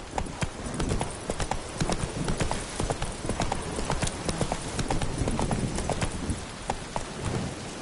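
Horse hooves clip-clop steadily and close in The Witcher 3, a continuous trotting rhythm mixed with a soft rain-like patter throughout.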